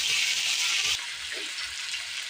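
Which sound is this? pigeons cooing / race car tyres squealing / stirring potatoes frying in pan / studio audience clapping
stirring potatoes frying in pan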